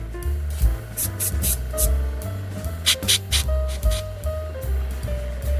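An airbrush sprays paint onto a miniature bust in short hissing bursts over steady background music, with several quick puffs clustered near the start and middle.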